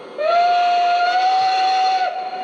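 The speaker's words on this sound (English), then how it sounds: "There's that whistle steam we talked about." A Lionel Legacy H10 toy train sounds its steam whistle, a single sustained, steady tone held for about two seconds. It is loud and close, with no talking over it.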